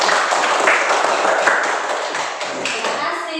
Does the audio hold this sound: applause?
yes